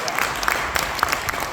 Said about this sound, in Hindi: ये सब बिल्कुल जोरदार तालियां बजाना